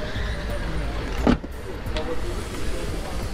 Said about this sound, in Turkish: Bak, dört cam elektrikli.